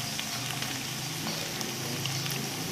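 Raisins fry along with grated carrot halwa in a pan, making a soft, steady sizzle with faint crackles, quiet and continuous with no voices.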